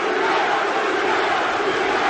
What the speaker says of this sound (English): Terrific support from the Nottingham crowd for Junior Witter.